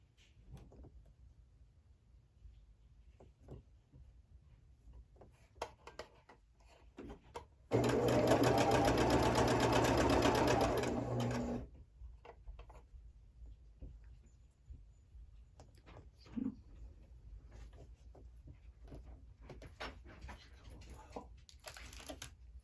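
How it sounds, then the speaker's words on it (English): A sewing machine stitches quilt blocks with a quarter-inch seam while sashing is added to garden fence blocks. It runs in one loud, continuous whirring burst of about four seconds, framed by quieter fabric handling and faint background noise. "I hope the camera is not jumping as I'm sewing"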